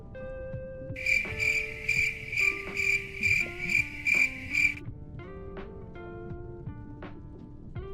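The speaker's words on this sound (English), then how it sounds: "let me give you one of these awkward crickets" A video game plays a cricket chirping sound effect: a bright, rhythmic burst of about eight quick chirp pulses lasting several seconds. Soft tonal game music plays underneath and continues after the chirps stop.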